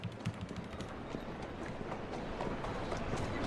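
Horse hooves clip-clop in a Cities: Skylines 2 city, a steady run of soft hoofbeats under a dense, continuous bed of city ambience.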